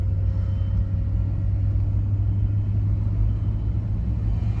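A Toyota Sequoia engine runs during a test drive, a steady low rumble with the drone of the road underneath, even and close throughout.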